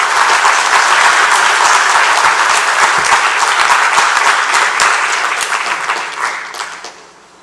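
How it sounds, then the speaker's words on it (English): A crowd at a Hindu college graduation ceremony applauds loudly with dense, steady clapping that gradually tapers and fades out near the end. "Let's give him another round of applause, please."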